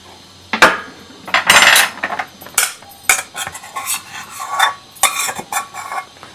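Hot jowar (sorghum) flour dough is kneaded by hand for North Karnataka holige, giving close, irregular bursts of scraping, slapping and rubbing against a vessel, with short pauses and no talking.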